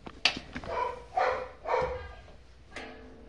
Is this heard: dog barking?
yes